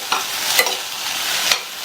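A spoon stirs vegetable poriyal mixed with coconut in a pan, giving a few soft scraping strokes over a faint, steady sizzle, close and moderately loud with no voices.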